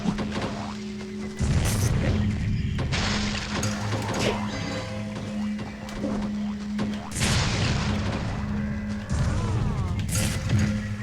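Explosions in The Legend of Spyro game crash through a busy mix of game effects and music, with a heavy burst near the start and further loud blasts a few seconds apart.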